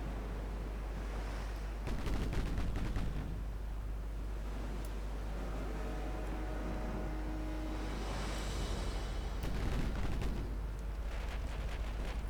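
Warships exchange naval gunfire in the naval battle game Ultimate Admiral Dreadnoughts: two heavy booming volleys, one early and one near the end, rise over a low continuous rumble with no voices.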